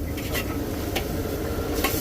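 Continuous sizzling and scraping of pork being stir-fried in a giant wok, with metal utensil clanks cutting through a busy background.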